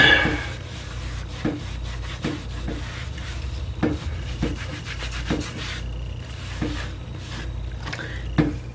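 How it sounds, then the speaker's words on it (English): A lint-free cloth rubs over textured plastic trim in quick irregular strokes, soft close scuffing with occasional sharper swipes over a low background hum. "get your cloth here, lint free preferred, and then just start rubbing. Rub it right in."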